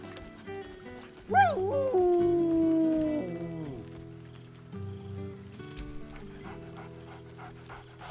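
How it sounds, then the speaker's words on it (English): A dog in Baldur's Gate 3 pants and lets out a rising, drawn-out whine, followed by softer panting and small whimpers against a quiet game music background. "Scratch barks merrily in something like agreement. He whines."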